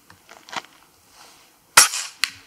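A powerful PCP air rifle fires outdoors during long-range target shooting, giving one sharp loud crack, with a second shorter snap just after and a few faint rustles before it.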